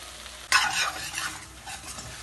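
Arbi masala being mixed in a pan, with a sudden scrape followed by a short, soft sizzling stir that fades, close by.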